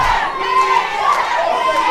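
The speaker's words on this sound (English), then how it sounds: "The crowd's trying to get Hansen into it" A wrestling crowd at an MWF Saturday night show cheers and shouts in a dense, steady roar of many voices, close and loud throughout.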